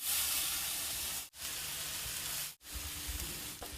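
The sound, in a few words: pork wings searing on hot side of grill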